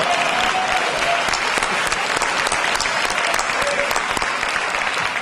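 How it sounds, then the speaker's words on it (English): An audience at an evening show applauds loudly and steadily for the full stretch, a dense wash of many hands clapping with a few faint shouts mixed in. "A special round of applause, not only for what he's done in the community,"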